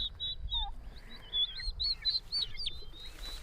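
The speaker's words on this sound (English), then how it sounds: "Oh, the stinker turkeys." A flock of turkeys calling nearby, high chirps and yelps repeating over a low rumbling outdoor background.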